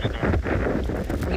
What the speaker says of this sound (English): it's extremely windy. My goodness, the wind has picked up a tenfold